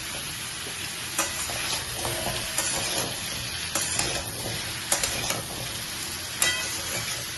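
Raw banana and pumpkin are stir-fried in a pan while cooking shukto, giving a steady close sizzle with scraping stirs and occasional clanks of the utensil.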